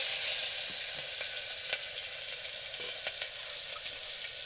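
Onion, garlic and green chillies fry on a clay stove with a steady, close hiss of sizzling oil, broken by a few sharp crackles and light stirring taps.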